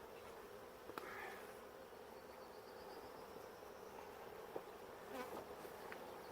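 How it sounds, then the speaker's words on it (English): Honey bees hum at the hive in a steady, faint drone, with a few individual insects buzzing briefly closer by. "these are some hard-working bees"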